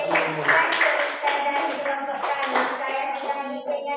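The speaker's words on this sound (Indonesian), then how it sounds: "Mari kita beri tepuk tangan untuk kelompok 1." Audience clapping for a group of presenters, a scattered, uneven patter of hands that keeps going for several seconds, with voices talking underneath.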